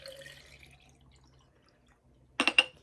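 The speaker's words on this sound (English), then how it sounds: "all you do is you pour in your water" Water poured into a plastic container with a lid and lights at the bottom, a quick close burst of splashing and trickling after near silence.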